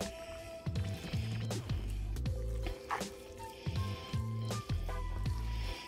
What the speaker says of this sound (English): is adding some of the dressing over the salad